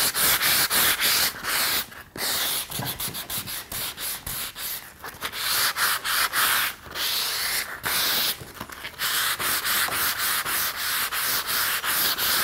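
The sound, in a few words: wet distressing Fusion mineral paint on furniture by rubbing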